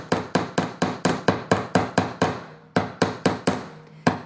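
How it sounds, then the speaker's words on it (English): A hammer strikes wire-wrapped freestyle earrings on a hard surface in a quick, even series of about fifteen sharp metallic taps, close and loud, with one brief pause before the last few blows. "I'll correct any marks that are in it because I'm going to hammer those too"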